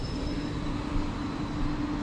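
A West Midlands Railway service bound for Birmingham New Street rolls past close by, giving a steady, heavy rumble with a faint high whine that lasts the whole two seconds.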